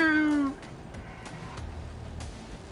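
A single short cat meow from a video game, loud and clear at the start, followed by quiet in-game ambience with faint thuds and rustles.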